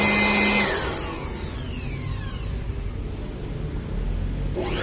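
A Mitsushi electric blower runs steadily during a test, a loud continuous broadband whoosh that eases slightly after the first second and holds at an even level, with no talking.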